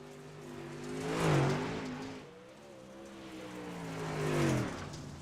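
A World of Outlaws dirt late model race car at I-55 swells in loud, rising engine roar, fades as it drops, then builds again into a second strong rev peak, with no talk.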